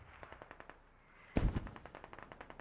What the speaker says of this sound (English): I'm going to drop the last round of mortars